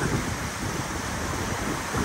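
The Kegaska River running over small rapids at Natashquan, a loud, steady broadband rush of moving water mixed with wind buffeting the microphone, with no voices.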